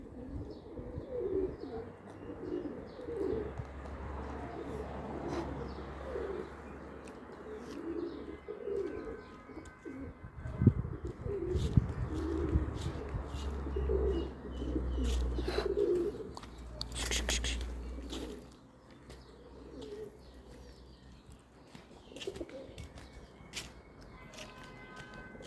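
A flock of about sixteen pigeons coos softly and repeatedly while being fed grain, with occasional chirps and wing flaps, and someone speaks now and then over the birds.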